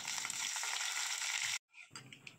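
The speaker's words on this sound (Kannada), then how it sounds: "ಉದ್ದಿನಬೇಳೆ, ಕಡಲೆಬೇಳೆ ಹಾಗೂ ತುರಿದಿರುವ ಶುಂಠಿಯನ್ನು ಹಾಕಿ ಸ್ವಲ್ಪ ಫ್ರೈ ಮಾಡಿಕೊಳ್ಳೋಣ." Urad dal, chana dal and grated ginger fry in hot oil with a steady, close crackling sizzle, which cuts off briefly near the end and then resumes more unevenly.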